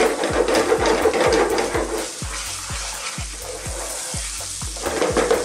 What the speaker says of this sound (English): cooking those onions just in the oil works really well first